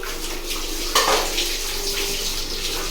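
Water sloshing and splashing in a bath as a young boy plays in it at bath time, a steady watery wash with one brighter splash near the middle, close and moderately loud, no talking.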